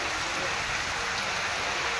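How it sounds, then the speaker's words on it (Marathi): Heavy rain pours down in a village mango orchard as an unbroken, loud rushing hiss, close and even from start to finish with no clear voices. "अचानक भयानक पावसाने दिलाय धक्का."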